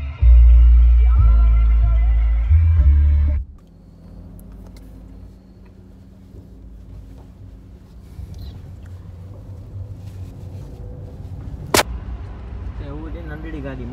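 A car with Musa driving, heading out from home toward the bypass: a loud engine rumble opens, then drops to a steady low road drone with faint interior noise, a brief sharp tone, and voices speaking inside.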